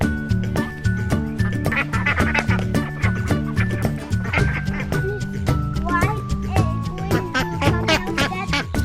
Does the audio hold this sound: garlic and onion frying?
no